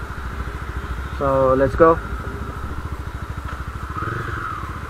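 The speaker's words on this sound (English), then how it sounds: "this test drive vehicle doesn't have a dB killer. So you can find the bike is pretty loud." Mahindra Mojo 2017 motorcycle running without a dB killer, its loud engine thumping at a steady rhythmic idle with a brief rise in revs near the start, while someone speaks over it.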